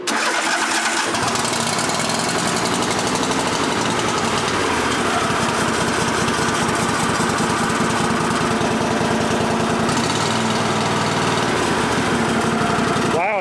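A John Deere lawn tractor's small engine, just recovered from an ignition fault, runs loud and close with a steady buzzing drone and settles toward idle, a brief revving surge near the end.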